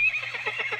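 A horse in Lord of the Rings Online gives a short, bright whinny with a quavering, rising-and-falling pitch. It is close and moderately loud, with faint hoof clatter beneath it.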